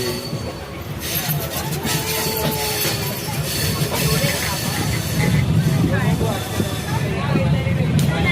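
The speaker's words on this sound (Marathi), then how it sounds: "तर आता आमची ट्रेन चालू झाली आहे." A train rumbles along with a steady rolling roar and faint wheel clatter, while voices chatter in the background.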